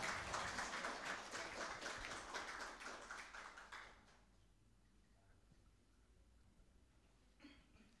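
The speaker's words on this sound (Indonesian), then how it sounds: "Oke, kita tepuk tangan." Audience clapping at a formal university memorandum signing ceremony, a dense burst of many hands that fades out after about four seconds, leaving quiet room tone with a faint stir near the end.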